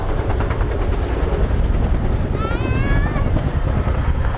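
A twin-engine Chinook helicopter of about 10,000 shaft horsepower and 15 tons makes a performance climb at the RIAT 2023 airshow at RAF Fairford. Its loud, continuous rotor roar fills the air, and a rising engine whine briefly cuts through it.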